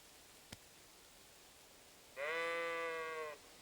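A sheep in Kingdom Come: Deliverance II lets out a single clear bleat lasting about a second, preceded by a brief faint click, against a quiet background with no talk.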